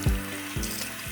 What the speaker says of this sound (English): I'm going to rinse it out using warm water